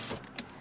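Rear driver-side power window on a low-mileage Mercury Grand Marquis GS running briefly in one short electric motor whir with a small click near the end, close and fairly quiet.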